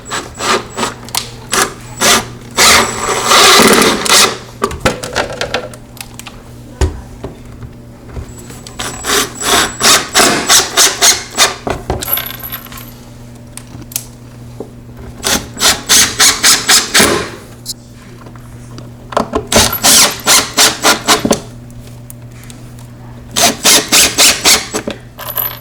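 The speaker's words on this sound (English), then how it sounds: "So now he's putting in the screws on all the pre-marked, pre-drilled areas." A power drill drives zinc #8 1 1/4-inch screws into pre-drilled laminate stair treads, making repeated loud bursts of whirring, ratcheting screw-driving with short gaps between them, heard up close.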